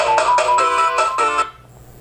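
Ringtone preview played on an Essential Phone running Android P: a loud, bright electronic melody of repeated rhythmic notes for about a second and a half, then cutting off abruptly into near silence.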